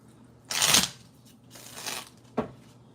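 Tarot cards are shuffled close by in a quiet room: three short papery riffling bursts, the first the loudest and the last a quick snap.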